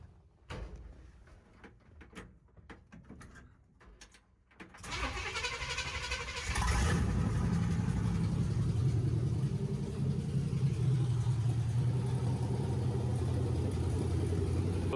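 Pickup truck with a recharged battery, first some handling knocks and clunks, then the engine cranks and catches, settling into a steady, loud, rumbling idle that carries on to the end.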